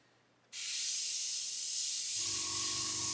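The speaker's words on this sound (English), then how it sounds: "I'm just going to do a little test spray here, and you can see it's spraying very, very nicely indeed" A Gaahleri GHAC-98D airbrush test spray starts abruptly after a short quiet moment, then holds as a steady, loud, close airy hiss; a faint low hum joins near the end.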